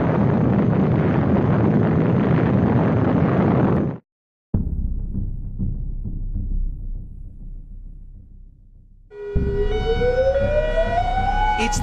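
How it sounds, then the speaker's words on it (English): Civil defense nuclear attack warning siren being tested in Hawaii: a long rising wail that climbs steadily in pitch, loud and prominent, arriving after earlier stretches of unrelated broadband noise and a brief silence. "a nuclear attack warning system is active in Hawaii."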